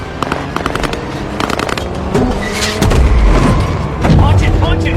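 Gunfire during a car chase in a Benghazi action film: rapid shots and heavy booms crackle over the rumble of engines, with bursts growing denser and louder toward the end amid shouted voices.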